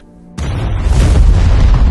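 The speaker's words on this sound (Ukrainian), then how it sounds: "Бетон можна зруйнувати вибухом." A sudden loud boom bursts out of near silence, then rolls on as a heavy, rumbling roar that fills the rest of the moment.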